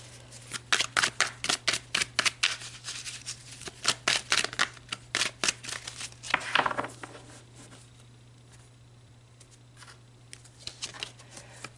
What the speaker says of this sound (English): let's pull a couple more cards to look at these karmic debts